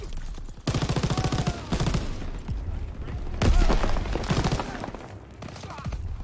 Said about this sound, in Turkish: Patlama efekti de iyiydi.